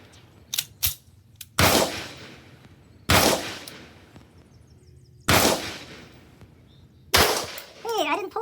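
Sig M18/P320 pistol firing single loud, sharp shots at irregular intervals, about four reports with short tails, close by, with brief clicks and faint talk between shots.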